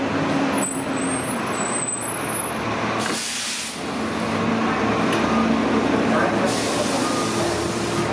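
A Toronto TTC Orion VII airport express bus heard from inside while riding, with a steady loud engine and road drone throughout and bursts of air-brake hiss, no talking.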